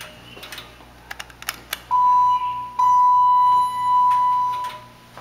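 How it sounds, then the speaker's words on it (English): A Dover hydraulic elevator's alarm pressed inside the cab in an office building: after a few soft clicks, a loud, steady electronic tone sounds for about a second, pauses briefly, then rings again for roughly two seconds. "Let's ring the bell."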